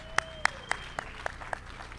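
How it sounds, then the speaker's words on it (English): Sparse, evenly spaced claps ring out at a gala, about six distinct sharp hits over two seconds against a quiet room with a faint steady hum, fairly close and moderately loud. "Give yourselves a round of applause."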